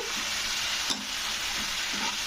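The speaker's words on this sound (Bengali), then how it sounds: "জলটা দিয়ে একটু নাড়াচাড়া করে দিতে হবে" Steady sizzle of drumstick (sajna data) curry with tomato in a pan just after water is added, with a few soft scraping stirs breaking through the continuous hiss.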